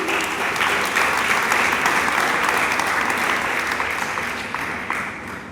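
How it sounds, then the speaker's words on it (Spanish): Church congregation clapping for the Lord, a loud, sustained roar of many hands applauding close by that eases off slightly toward the end. "Dele palmas al Señor"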